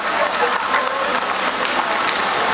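An audience claps steadily at a digital classroom inauguration at a school in the Democratic Republic of Congo, dense continuous clapping filling the room without a break.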